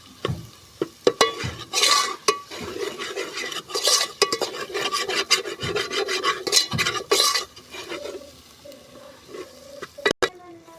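Mutton curry with chilli powder, turmeric and masala being stirred in a pot over a wood-fired chulha stove, a rasping spoon scraping the pot in steady repeated strokes with light sizzling, close and fairly loud, no talking.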